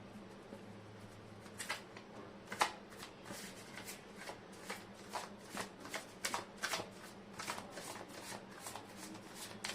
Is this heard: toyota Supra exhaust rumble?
no